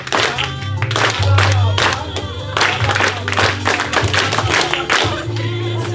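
A church congregation claps and applauds loudly and steadily at a Thanksgiving service, the clapping continuing throughout with a low hum and some voices underneath.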